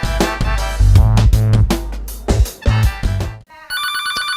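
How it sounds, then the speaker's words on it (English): Telephone ringing on a Body Shop TV broadcast, loud repeated electronic rings in a strong rhythmic pattern ending with a bright tonal chime. "We have a phone call."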